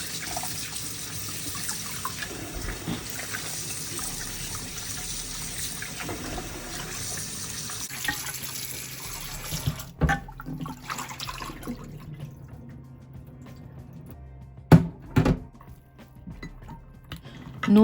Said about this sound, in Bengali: খুব ভালো করে এবার মাছগুলোকে ধুয়ে নেব